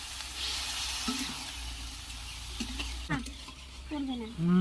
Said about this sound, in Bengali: এখন এই যে ভাজলগুলো সব দিয়ে দিল, ভালো করে নাড়াচাড়া করে দাও।